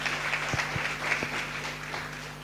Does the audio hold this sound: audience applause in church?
yes